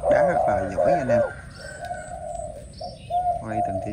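A Malaysian turtle dove coos in a repeated, rhythmic phrase, close and clear, with quieter chirps from other birds in between.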